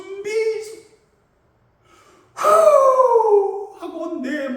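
A voice imitates the sumbisori, the forceful whistling exhale of a Jeju haenyeo diver surfacing from a deep dive: one long, loud, breathy blast after a brief pause, with short vocal sounds before and after.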